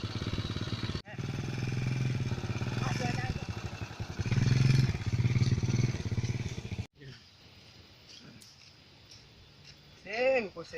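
A motorcycle engine runs with a rough, pulsing rumble that revs louder, cuts out, then idles faintly while voices talk over it.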